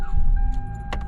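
A Toyota Camry engine cranks and catches, a quick start under a low, steady idle rumble inside the car, with a brief jangle of keys near the end.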